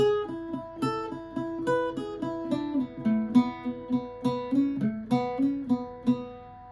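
An Irish bouzouki plays a bright, quick melodic line from the tune Old Hag You Have Killed Me in two connected phrases, steady rhythm with ringing strums, close and clear.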